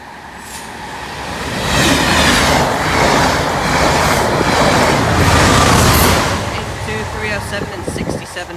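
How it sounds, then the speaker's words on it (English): A Chiltern train, a class 67 locomotive, rumbles past Green Lane level crossing, the broad roar swelling to a loud steady passage then easing with rattling clatter, while a voice speaks over it. "And there comes a train."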